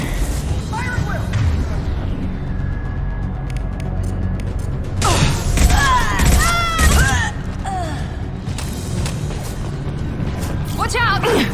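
Gunfire in a Mass Effect 2 battle on Illium: bursts of weapon fire and booms swelling in the middle, mixed with shouted voices and game effects throughout.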